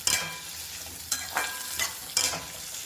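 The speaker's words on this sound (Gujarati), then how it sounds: "આપણે તેલ નાખી છે, જીરું નાખી છે, હવે ડુંગળી નાખી શેકી જાય" Onion frying in hot oil with cumin seeds in a pan while cooking moong, a soft steady sizzle broken by several scraping stirs of a spoon, close and with no talk.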